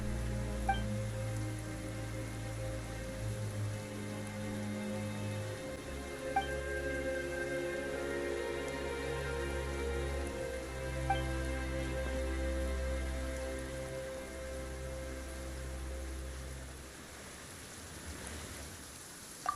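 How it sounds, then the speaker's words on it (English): Sudden steady rain in the video game Genshin Impact, a continuous hiss of falling drops over a low ambient drone, unbroken for the whole stretch with no talk. "Why is it raining all of a sudden?"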